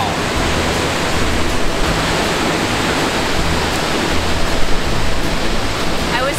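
A waterfall at Lula Lake near Chattanooga, Tennessee roars steadily and loudly up close, a dense unbroken wash of falling water with no voices.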